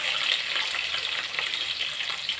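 Chopped onion hits hot oil in a pan and crackles into a steady, bright sizzle, loud and continuous throughout with no voices.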